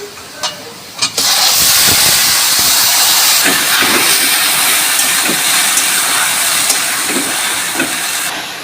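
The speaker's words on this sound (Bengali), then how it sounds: "এখন আমি কচু শাকটা দিয়ে দেব।" Taro leaves drop into hot oil with garlic and onion, setting off a sudden loud, close sizzling hiss that roars on steadily, with faint stirring clatter underneath.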